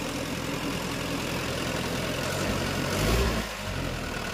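A Toyota Dyna 130HT diesel truck engine with a low-power fault, idling in a steady loud rumble, then briefly rising in a short rev before settling back to idle.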